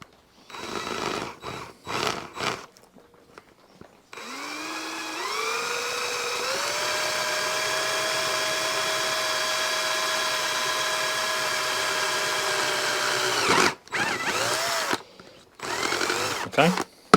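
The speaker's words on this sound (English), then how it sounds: "we're going to drill a hole through here" A power drill whirs steadily for about nine seconds after short bursts, its pitch rising as it spins up while drilling through plastic on a lawn mower recoil starter, then stops, followed by a few brief revs.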